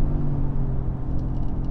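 A tuned 2021 Audi RS6 with a 4.0 V8 engine held around 5,500 rpm, giving a steady, loud, deep rumble with a droning hum, heard from inside the car without talk.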